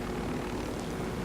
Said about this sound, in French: J'ai un avion au-dessus.